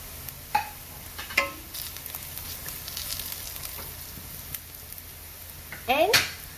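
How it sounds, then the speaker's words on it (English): Curry leaves hitting hot oil with onions already frying, a soft steady sizzle punctuated by a few sharp spoon clinks and a louder crackling spatter near the end, close and without talk. "The onions have changed color, so now we're going to add in the curry leaves"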